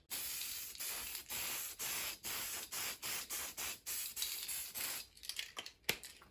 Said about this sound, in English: give it a slight fog, let that settle, and then spray it again